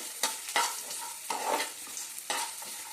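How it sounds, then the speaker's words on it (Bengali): Grated coconut and green chillies fry in a pan for a vegetable chop filling, with steady sizzling broken by several sharp scraping stirs close by; no voices. "কাঁচা লঙ্কা দেওয়ার পরে আমি কেটে রেখেছি কিছুটা নারকোলটাও এর মধ্যে দিয়ে ওকে একটু ভেজে নেব"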